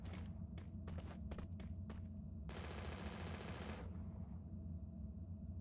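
Gunfire in the battle royale shooter Free Fire during a ranked match: several sharp separate shots followed by a dense rapid burst lasting over a second, set against a steady game background hum.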